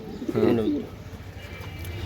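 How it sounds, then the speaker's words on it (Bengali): A club racing pigeon from a BRPFC racer loft gives one close, resonant, warbling coo early on, followed by quiet room sound without speech. "এই দুইটা কবুতর ভাই আজকের জন্য দোনোটাই ক্লাবের"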